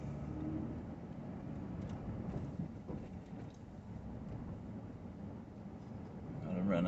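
Vehicle driving along a street in Johnson City with steady low road and engine rumble throughout, a little louder near the end; a person talks over it.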